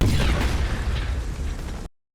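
A car explosion for visual effects work: one loud, dense burst at full force right away that rumbles and decays over about two seconds, then cuts off abruptly into silence.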